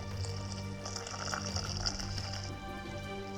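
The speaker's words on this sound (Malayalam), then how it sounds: "കൈ തൊട്ട പൊള്ളുന്ന പരുവത്തിനുള്ള ചൂട് വെള്ളവും ഞാനിതിലേക്ക് ചേർക്കുന്നത്." Hot water pours in a steady, close, continuous trickle into appam batter in a bowl for a few seconds, with no talking.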